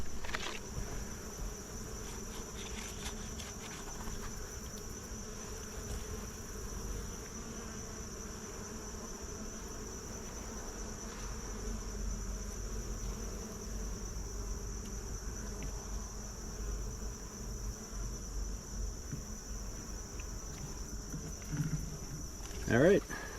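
Honeybees fill a hive's top box with a steady, low, close buzzing drone that continues evenly throughout, with faint handling noises near the end.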